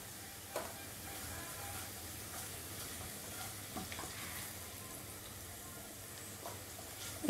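Potatoes sizzle in a frying pan, a faint, steady crackling hiss with an occasional soft clink, heard on its own.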